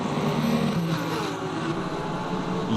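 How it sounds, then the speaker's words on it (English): Race car engines roaring around Silverstone in a racing video game, a continuous loud drone of several cars with shifting engine pitch and no pauses. "You cannot interrupt the sound of those engines."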